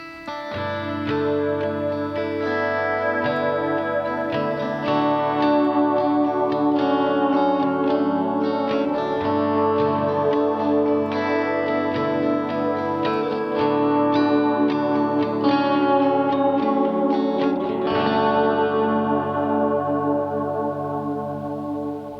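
An electric guitar recorded in Logic Pro, drenched in chorus, echo and distortion, plays a continuous layered part, steady and full throughout with no talking.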